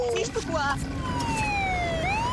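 A fire engine siren wails in The Sims 2 as the fire truck arrives, its tone sweeping up and down and then holding long falling glides, with a voice talking underneath.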